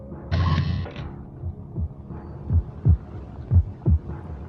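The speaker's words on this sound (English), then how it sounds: "I think we're supposed to be following the heartbeat." Heartbeat in the Alien Versus Predator video game, a low, steady double thump pulsing several times after a brief mechanical whir at the start, close and clear with no talking.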